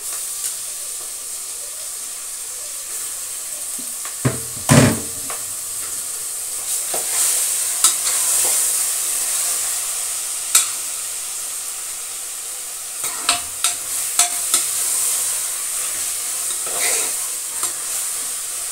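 Goat head curry fries in oil with turmeric and salt, giving a steady soft sizzle. Occasional louder clanks and scrapes come from a utensil stirring the pot, and no one speaks.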